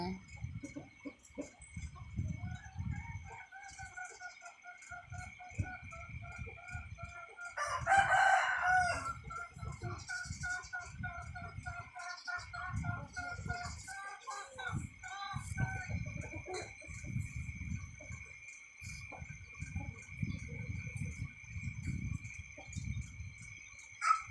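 Rooster crowing repeatedly with hens clucking at a Lao farmyard, several loud crows spread through the clip over steady background clucking and scattered talk.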